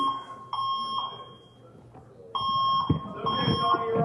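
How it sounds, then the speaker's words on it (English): A fire alarm beeps in repeated high-pitched tones, cutting out briefly before resuming, with some muffled background noise and movement. "I feel like we should probably do something about the fire alarm."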